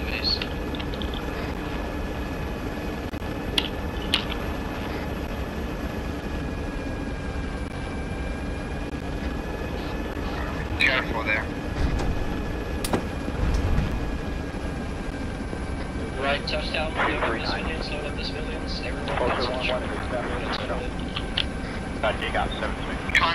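Aircraft engine and rotor drone from a milsim game, coming down to land outside a base, a steady mechanical roar with several voices talking over it.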